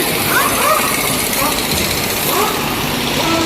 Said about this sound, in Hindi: इंजन की टेस्टिंग,